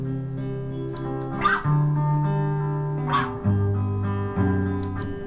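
An electric guitar played through an amplifier with a distortion effect switched on, sustained gritty chords changing every second or so, with short picked accents between them and no talking.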